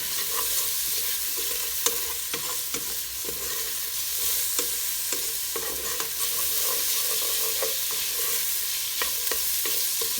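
Onions fry in olive oil over heat in a pan, a steady bright sizzle broken by frequent scraping stirs of a utensil, close and loud with no voices.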